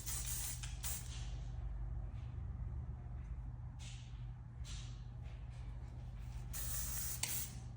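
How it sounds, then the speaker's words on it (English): Hair spray is misted in a few short, hissing bursts while hair is styled into beach waves with a Bioionic curling iron. The spray sounds close but quiet, with soft rustling between the bursts. "Do a little spray like that."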